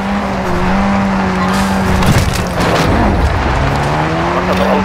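A car drives in Call of Duty Warzone 2, its loud engine droning steadily and close throughout, with tyre noise and a rising whine near the end.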